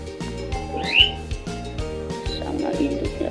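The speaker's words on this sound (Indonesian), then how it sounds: "di sini ada burung puter" Turtle doves with a chick at a home aviary, giving soft rhythmic low coos in a steady repeating pattern, close and fairly quiet, with a brief higher squeak near the middle.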